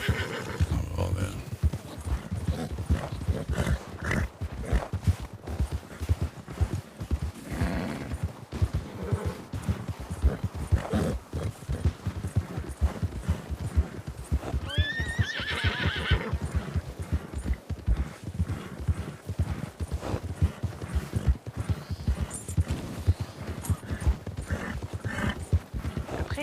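A fire horse in a video game neighs and whinnies over continuous rhythmic clip-clop of hooves, with a sharp whinny rising partway through, loud and close for the whole stretch.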